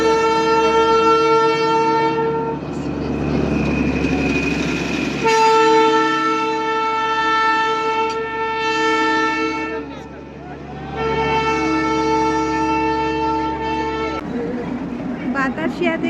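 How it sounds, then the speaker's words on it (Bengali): The Darjeeling toy train at Batasia sounds its horn in long, loud, sustained blasts, three of them with short gaps between, close by. Crowd voices and the rumble of the train fill the background. "বাতাসিয়াতে এসে এই টয় ট্রেনে দেখা পেয়েছি।"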